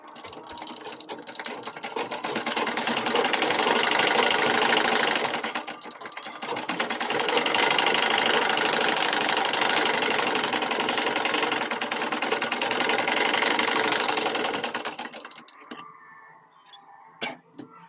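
A sewing machine stitching a piping strip onto the sleeve of a newborn baby garment runs in a fast, steady, close-up whir, pausing briefly partway through, then resuming before stopping, with a few clicks as it winds down.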